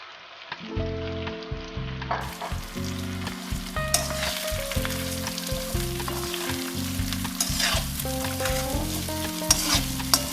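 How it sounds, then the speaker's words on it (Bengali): Spiced rice for basanti pulao is stirred and fried in a pan, with a continuous bright sizzle and rhythmic scraping and clattering of the spoon against the pan throughout. "এবারে আমি এই চাল মাখাটা দিয়ে দেব দিয়ে খানিক্ষণ নাড়তে থাকবো"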